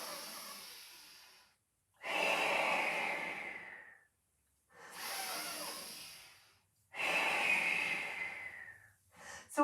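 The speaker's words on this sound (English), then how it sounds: "So we're breathing in as we come down, breathing out as we come up" Controlled breathing during a slow Pilates exercise: four long, audible breaths alternating in and out, each a couple of seconds of airy rushing close to the mic, separated by short silences.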